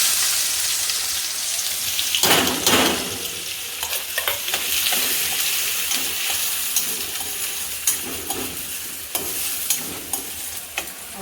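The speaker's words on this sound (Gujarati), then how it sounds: "રાઈ જીરું તતડી જાય ને ત્યાં સુધી એને" Mustard seeds and cumin crackle and sizzle steadily in hot oil for a veg pulao, a dense, close spatter with sharper pops scattered throughout and no talking.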